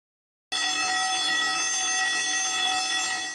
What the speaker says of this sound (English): As the fire alarm begins to ring, this is the first signal of danger.